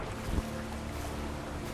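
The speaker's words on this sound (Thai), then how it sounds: "เราโดนคลื่นซัดแล้วทุกคน" Waves wash against a boat in the Trailmakers game, a steady broadband rush of water and wind with a low hum and one brief louder thump early on, with no voices.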